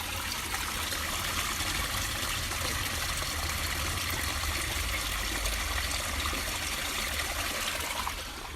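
Steady flowing water runs continuously at an even, moderate level, a soft trickling stream with no breaks and nothing else standing out.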